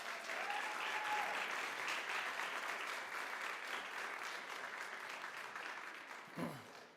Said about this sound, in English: a huge round of applause for their support